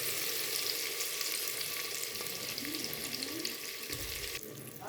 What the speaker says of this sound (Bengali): আর পেঁয়াজগুলো হালকা লাল লাল করে ভেজে নিচ্ছি দুটো পেঁয়াজকে।